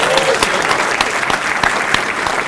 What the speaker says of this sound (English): First of all, round of applause for this guy